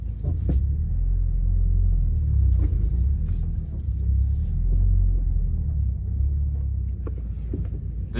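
A BMW M3 drift car's engine runs at a low, steady, heavy rumble close by as it is pulled into a garage, with a few faint clicks and knocks over the drone.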